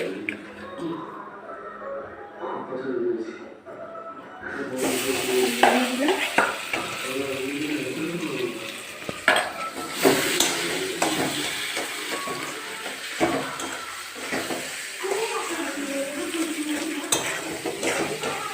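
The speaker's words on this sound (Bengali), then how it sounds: "যে আলুটা রেখেছি ম্যাস্ট করে এই যে আলুটা দিয়ে দিচ্ছি" Mashed potato is stirred and fried in a pan with salt, giving a continuous soft sizzle and scraping spoon strokes after a quieter opening, with a faint voice in the background.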